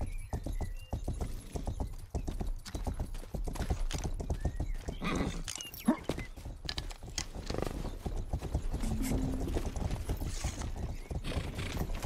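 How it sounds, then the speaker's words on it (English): Horse hooves clip-clop steadily in a fast rhythm as a horse is ridden in a video game, loud and continuous, with a brief whinny partway through. "so I am gonna take my horse"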